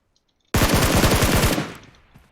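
A close, loud burst of rapid automatic gunfire in PUBG Mobile, roughly a second of fast repeated shots, cut off sharply and followed by a fading tail.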